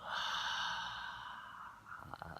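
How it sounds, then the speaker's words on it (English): A long, slow, audible exhale of a deep breath out, a soft breathy rush that swells quickly and then fades gently over a couple of seconds, with a faint breath catch at the end. "Deep breath in, deep breath out."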